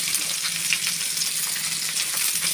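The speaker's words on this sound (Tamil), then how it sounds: "மஞ்சள் போட்டு வதக்கி வச்சு இப்போ வந்து பூண்டு போட்டுக்கணும்" Turmeric and spices sautéing in a hot pan with onion and salt, giving a steady, close, continuous sizzle with faint stirring scrapes throughout, no voices.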